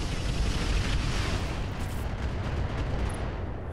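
Mech weapons firing in the Roguetech battle game, heard as a loud, dense, continuous roar of heavy cannon and missile blasts that fills the whole stretch with no pauses and no voices.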